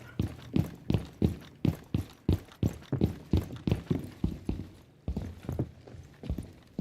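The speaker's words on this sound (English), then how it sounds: "I hear him coming up the stairs." Rapid, evenly spaced footsteps thud up stairs in a first-person shooter video game, a dozen or more close, sharp impacts in quick rhythm with a brief pause near the end.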